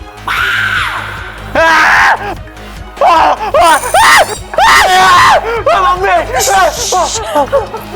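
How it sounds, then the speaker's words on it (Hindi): A man screams loudly and repeatedly in a comedy show scene, giving long strained yells in bursts with short gaps, loud and close, mixed with excited crowd voices. "सुहागरात के वक्त दुल्हन चिल्लाए समझ में आता है, लेकिन दूल्हे का इस तरह चिल्लाना।"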